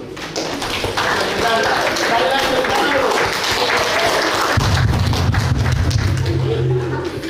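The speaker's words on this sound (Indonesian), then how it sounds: "Tepuk tangan dulu." A crowd at the Lanny Jaya Cerdas evaluation gathering claps loudly and steadily, a dense, continuous roar of hands running through the whole stretch, with a deeper rumbling swell in the last few seconds.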